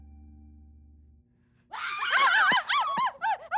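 A woman screams in fright in a Hindi comedy series scene about fearing a witch: after a quiet start, a burst of loud, shrill, wavering cries rises and falls several times in quick succession.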